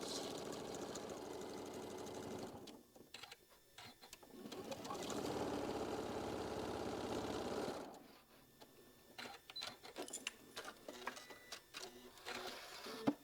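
A sewing machine runs in two sustained bursts while stitching a quilt block, with a mechanical whir, a pause between runs, then scattered clicks and handling noises near the end.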